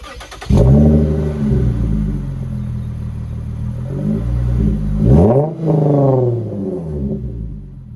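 A Lexus IS350 engine with an aftermarket exhaust fires up and revs loudly twice, deep and rumbling with a raspy exhaust note, close by, then settles into a throaty idle.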